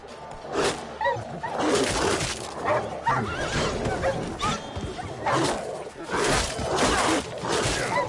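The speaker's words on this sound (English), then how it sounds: "Hello, wild dogs." A pack of wild dogs or wolves in The Witcher 3: Wild Hunt on PS5 barks, yips and whimpers in bursts throughout, mixed with game combat noise and a voice talking over it.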